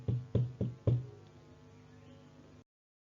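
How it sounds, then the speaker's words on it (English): Four quick knocks on a door, the third and fourth slightly spaced, then a lingering hollow resonance fading into quiet. "the little girl knocked the door"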